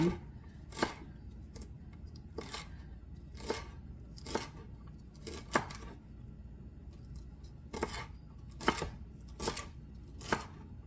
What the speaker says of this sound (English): So I'm going to be doing chopping here.